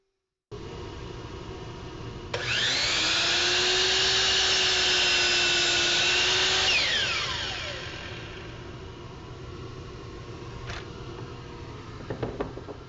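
A miter saw spins up with a rising whine, cuts through a wood workpiece under a loud steady motor tone, then winds down as the blade slows, followed by a few light clunks.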